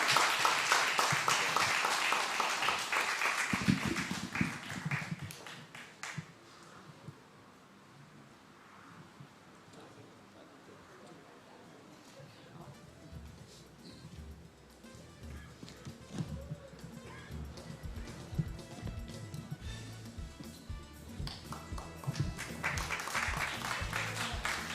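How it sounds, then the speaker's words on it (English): A church congregation at a Nazarene worship service in Barbados applauds the panelists, a burst of clapping that fades into quieter room noise and builds back into applause at the end. "Let's give them a good round of applause."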